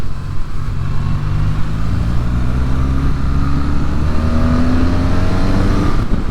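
BMW R12 NineT motorcycle engine pulling steadily under acceleration, a continuous close rumble with rising pitch throughout and no talk.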